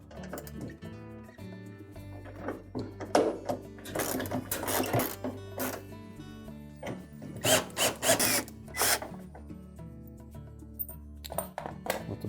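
A power tool whirs and stutters in bursts while backing shock bolts off a Whirlpool washer tub, with clanks and rattles of the metal assembly mixed among the uneven, close-up motor runs.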